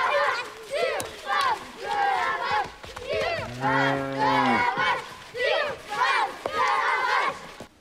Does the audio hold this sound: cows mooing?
yes